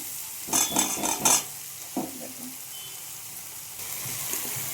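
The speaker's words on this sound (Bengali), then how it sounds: "সামান্য জল দেবো বেশি জল দিতে লাগবে না বড়িটা সেদ্ধ হওয়ার জন্য" Small splash of water poured into a hot sizzling pan while cooking bori (lentil dumplings) for a chickpea greens curry, a brief burst of hissing and stirring clatter, then quieter simmering with a few soft knocks.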